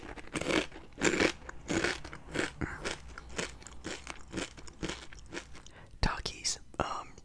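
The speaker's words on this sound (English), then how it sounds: "I'm gonna be snacking on sort of a one that's sort of like a Taki with the Doritos Dynamite." Close, crisp crunching and chewing of rolled Takis-style Doritos Dynamite tortilla chips, steady bites and chews repeating throughout amid soft whispery mouth sounds, with a crinkle of the bag near the end.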